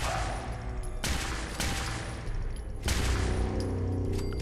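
Rapid gunfire in Fallout 4 comes in several dense bursts separated by short breaks, loud and close against a busy game background.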